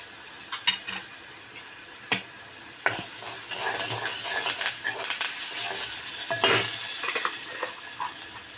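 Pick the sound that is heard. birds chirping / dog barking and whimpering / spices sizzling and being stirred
spices sizzling and being stirred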